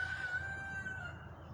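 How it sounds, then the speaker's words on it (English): A rooster gives a single faint, sustained crow at a distance over steady low outdoor background noise in a garden. "that crazy rooster does love to talk when I'm nowhere near him"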